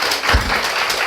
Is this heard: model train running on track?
no